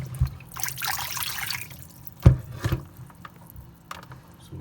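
Water pours out of a glass electric kettle in a home kitchen, a short splashing rush followed by a few quiet drips and knocks, close and fairly soft.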